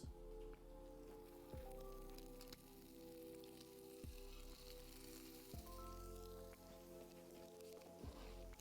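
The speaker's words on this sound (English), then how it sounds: "That sizzle sound is pretty happy." Four eggs searing in a hot frying pan give a steady, close sizzle throughout, with sharp spits and crackles as more eggs drop in, and no talking.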